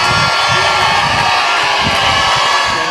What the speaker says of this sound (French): Et applaudissons très très fort pour les amis